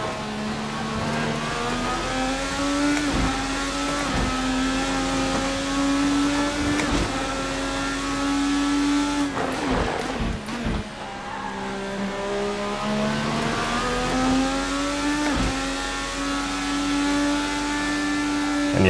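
2020 IndyCar lapping in the Assetto Corsa racing sim, a loud close engine whine rising and falling through gear shifts with brief tire squeal and chatter around corners.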